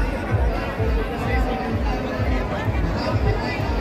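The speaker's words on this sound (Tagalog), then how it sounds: "Matindi po yung crowd." A large crowd at a Bagong Pilipinas rally in the Philippines fills the air with dense, continuous chatter, a loud, close hubbub of many overlapping voices with no pauses.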